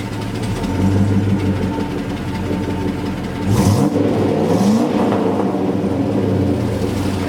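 A pickup truck with an LS engine swap drives along and revs, a steady engine drone with a loud rising rev surge midway, close and continuous with no talk.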